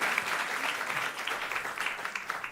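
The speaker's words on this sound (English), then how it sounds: "Please give them a round of applause" An audience applauds a panel at a conference on food security and climate extremes, a steady, dense wash of clapping from many hands filling the room without pause.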